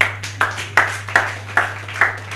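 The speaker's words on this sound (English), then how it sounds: "Can we clap for Ekirapa, please?" Sparse, rhythmic hand claps ring out in a church-like hall, about six distinct, evenly spaced claps with short echoing tails, close and moderately loud over a steady low hum.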